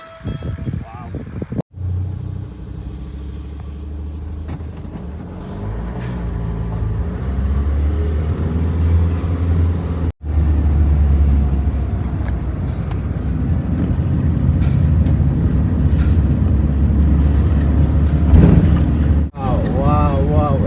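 A car driving along a scenic mountain road, a steady low engine and road rumble filling the scene throughout, with a couple of abrupt cuts and a voice talking over it at times.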